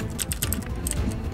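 Typing on a computer keyboard: a steady run of quick, close key clicks at an even rhythm over a low background hum.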